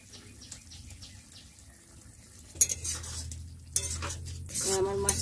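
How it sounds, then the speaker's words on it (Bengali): Prawns going into a simmering masala curry in a pan, with a quiet low bubbling bed that jumps into louder clattering stirs and wet splashy scraping bursts in the second half, no voices. "আমি এখন মাছটা দিয়ে দেব।"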